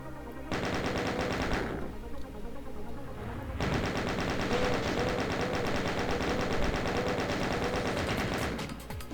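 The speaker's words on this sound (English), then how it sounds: "The hills are alive with the sounds of monsters trying to kill me wherever I go" Doom-style first-person shooter combat with rapid, continuous gunfire and monster attack noises, loud and dense, with a short lull before the shooting resumes.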